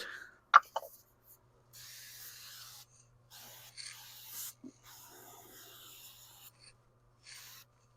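Short hissing bursts of spray cleaner on a 1976 Mercury's rear window, with quiet gaps between them, close to the microphone, over faint rubbing and shuffling sounds.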